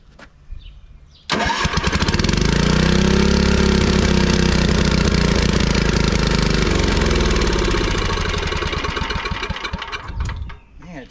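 A 40-year-old tiller engine catches suddenly and runs loud and rough for about nine seconds, a close throbbing small-engine clatter, then sputters and dies; a faint voice is heard briefly before it starts.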